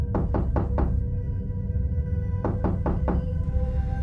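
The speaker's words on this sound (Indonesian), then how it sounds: "tiba-tiba Tora dan Devi mendengar suara ketukan dari jendela di kamarnya." Four sharp knocks on a window, a pause, then four more knocks in the same quick, even rhythm, close and clear.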